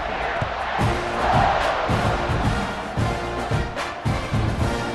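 A loud stadium crowd cheers and roars in a college football video game before a kickoff following an extra point for Texas A&M. The noise swells and holds steady, with some thumping underneath.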